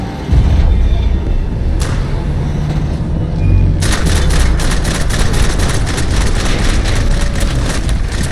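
Gunfire in the game Max Payne 3, a dense stretch of rapid shots and blasts over a low rumbling background, loud and continuous, with shouted voices mixed in.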